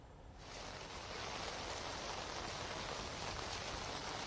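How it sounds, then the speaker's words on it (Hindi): Heavy rain falls in Mohali, Punjab, after a full day of nonstop downpour that has flooded the streets. It makes a steady, even hiss that swells in within the first half-second and then holds unbroken, with no voices. "पिछले 24 घंटे से लगातार बारिश हो चुकी है"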